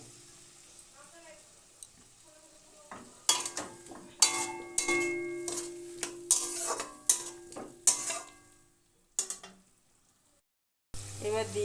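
Spice paste and chopped tomato being stir-fried in a pan for a cauliflower, potato and tengra fish curry: loud bursts of sizzling and spatula scraping come in waves, with pauses, then a sharp sizzle at the end.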